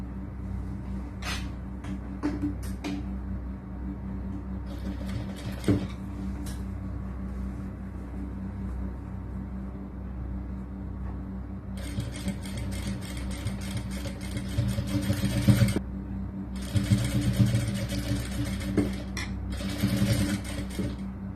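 A sewing machine stitches the lining of a churidar top in a tailoring class, running in bursts of rapid mechanical whirring separated by quieter pauses, close and steady.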